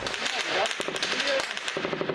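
Gunfire during night shelling on the front line, with tank fire aimed at a tower. Rapid bursts of sharp cracks go on throughout, close and loud, against a dense noisy background.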